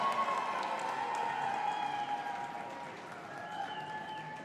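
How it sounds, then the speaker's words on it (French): Crowd clapping at an indoor equestrian cross event, fairly faint and diffuse applause that fades gradually, mixed with a tonal background hum. "C'est pas très fort comme applaudissement"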